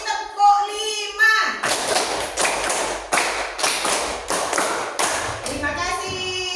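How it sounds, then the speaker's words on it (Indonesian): A class of children performs the 'tepuk 5' clapping game twice in unison, sharp group claps landing in a steady patterned rhythm, bracketed by a teacher's voice at the start and end. "Yang kompak ya. 2 kali tepuk 5."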